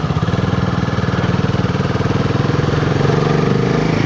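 Royal Enfield Himalayan 450 motorcycle, 2025 model fitted with a Fuel X Pro Plus dual O2 sensor module, pulling hard in a low gear as the throttle opens, its loud close exhaust thumping in a fast steady beat that builds slightly toward the end.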